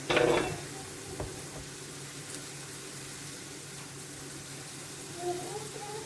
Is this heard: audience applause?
no